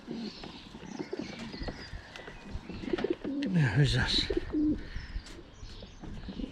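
Racing pigeons coo softly in a loft while they are handled, with a clear burst of cooing in the middle, and someone speaks over the birds.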